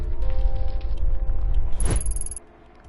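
A deep, loud rumble from an earthquake in the Tokyo Dark video game shakes continuously for a couple of seconds, with a rising shriek near the end before it cuts off sharply.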